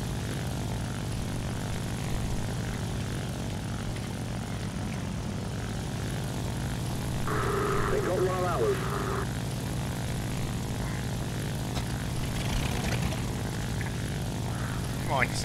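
Propeller engine of a Fw-190 or Ta-152 fighter in the War Thunder video game drones steadily and loudly throughout, with a brief voice-like tone partway through.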